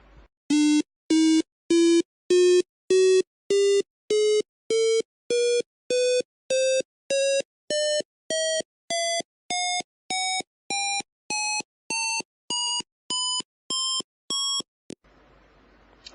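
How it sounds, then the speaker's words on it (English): About two dozen short computer-generated beeps, evenly spaced, play a two-octave ascending chromatic scale, each a half-step higher than the last, climbing steadily in pitch with no talking. "every note from in the chromatic scale is going to be played in an ascending order"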